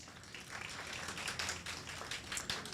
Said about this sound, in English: Please give yourselves a round of applause, ladies and gentlemen.